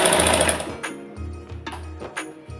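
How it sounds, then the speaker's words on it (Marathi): A sewing machine stitches a fall onto a saree in short close runs of rapid mechanical whirring, stopping and restarting several times with brief pauses between bursts. "तर आता डिझाईन पर्यंत मी अशा पद्धतीनं टीप मारून घेते"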